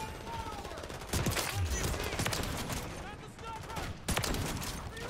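Shotgun blasts in Call of Duty Modern Warfare 3 multiplayer, a few heavy close shots a couple of seconds apart amid ongoing battle noise.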